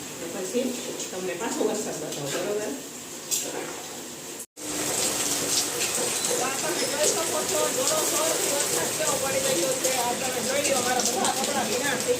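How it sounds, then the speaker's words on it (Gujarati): Steady rain patters on a hard surface with a constant hiss. A person talks over it, and the sound briefly cuts out partway through. "કેટલો વરસાદ થયો"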